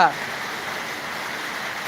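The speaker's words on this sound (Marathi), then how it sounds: "बाळोमा मंदिरावर पाऊस पडत आहे" Steady rain falling on Balumama temple at Belmachi village at the foot of Chandan-Vandan fort in Wai, Satara, a constant even hiss that never lets up.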